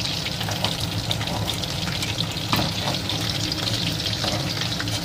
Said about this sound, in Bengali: চিকেনটা দেখুন এইভাবে লাল লাল করে আমি ভেজে নিয়েছি।